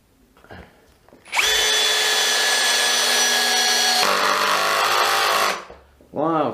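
A Hitachi DV18DBFL2 cordless drill drives a screw in one loud, close whirring burst of about four seconds that drops in pitch partway through as the load rises. Brief talk comes before and after it.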